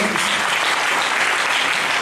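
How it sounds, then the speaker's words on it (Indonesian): A church seminar congregation claps together in a dense, even wash of applause that holds steady for the whole stretch, with no voices rising above it. "Berikan lagi tepuk tangan bagi Tuhan Yesus."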